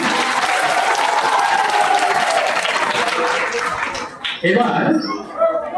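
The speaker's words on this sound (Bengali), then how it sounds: "আমরা একবার মঞ্চে যারা আছেন তাদের জন্য জোরে হাততালি চাইবো, জোরে হাততালি" Audience applause at a Contai 3 block staff event, a loud sustained crowd clapping that fades after about four seconds as a voice speaks over the tail.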